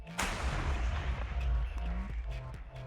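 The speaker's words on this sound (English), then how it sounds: "the 125mm gun with 3BM42 will utterly decimate the M26 Pershing" A 125mm tank main gun fires in the Minecraft MCHeli-Overdrive mod, one sharp, loud boom followed by a long rolling rumble and echoing tail, with no voices.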